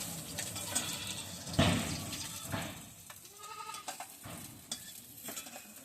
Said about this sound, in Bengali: এই যে এইভাবে ভেজে নিচ্ছি